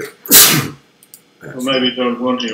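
A single sharp, loud sneeze bursts out near the start, followed by someone speaking.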